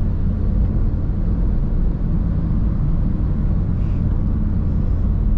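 A Honda Brio hatchback accelerates on the road, heard from inside as a steady low engine and road rumble that holds loud and even without pause.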